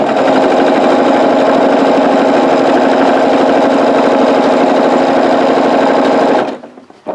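Sewing machine fitted with a walking foot and open toe foot running a long continuous stitch on a scrap string quilt, a loud, rapid, even mechanical chatter that stops abruptly near the end.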